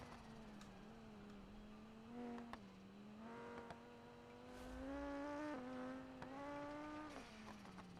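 A turbocharged straight-five car engine in the BeamNG driving game revs and climbs through the gears, pitch rising and dropping at each shift, with faint tire squeal, alone without speech.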